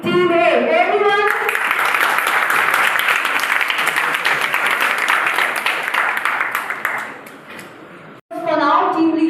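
A crowd applauds as a student team is called up at a startup pitch event, a steady, loud wash of clapping that fades near the end, with a voice speaking briefly before and after it.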